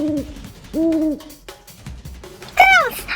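An owl gives three hoots: two long, wavering calls close together, then a sharper, higher hoot after a short pause. The hoots are near and fairly loud over quiet background clatter.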